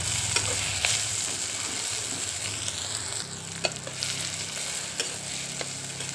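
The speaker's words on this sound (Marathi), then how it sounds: "तर हे चांगलं आपण हलवून घेऊ. कांदा आपला मस्त परतलेला आहे." Onion and curry leaves frying in a pan, a loud steady sizzle under repeated stirring and scraping strokes with occasional clicks of a spoon against the pan.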